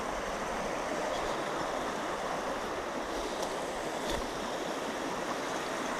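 A small river stream with a little white water runs in a continuous, even rush, fairly faint and steady, with no talking over it.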